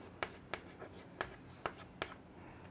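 A pen or chalk writes a maths equation on a board in a class on linear equations in two variables, sharp scratchy strokes at roughly half-second intervals, faint and close.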